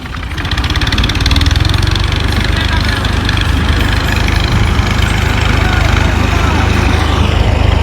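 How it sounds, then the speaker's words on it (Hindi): A tractor engine runs steadily and loudly at close range throughout, a deep idling rumble with a faint rhythmic knock, on a farm where grass and soil are being unloaded from a trolley. "ये ट्रैक्टर आ गया है"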